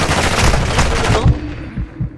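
Gunfire in the Warzone video game, Rebirth Island map: a short burst of rapid shots, loud at first and then trailing into a few quieter, more distant reports that fade out.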